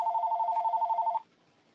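A telephone rings during a Skype call with a rapid electronic trill, one clear burst that stops after about a second, with no voices.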